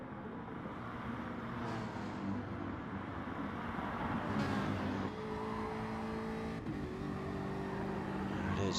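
Race cars at speed on Gran Turismo's Dragon Trail seaside circuit, a Ferrari and an Audi chasing a Jaguar downhill toward a hairpin; dense, steady engine roar throughout with rising and falling revs and gear changes.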